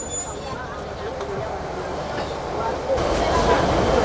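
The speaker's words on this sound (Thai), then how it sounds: "สั่นรถไฟเขาก็จะเป็นประมาณนี้เลยนะ" The Yangon Circular Train rattles and shakes as it runs, a continuous heavy rumble and clatter that grows louder toward the end, with a voice speaking over it.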